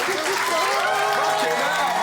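Studio audience on a cooking show kitchen set clapping steadily as the chef dismisses the contestants, dense continuous applause with a voice speaking over it.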